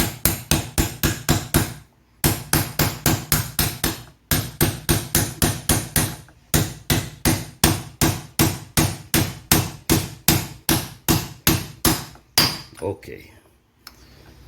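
Idler pulley with freshly re-greased bearings knocked back into its seat on a Toyota D4D engine, a long run of sharp, evenly spaced hammer-like blows in several bursts, close and loud, with a brief spoken word.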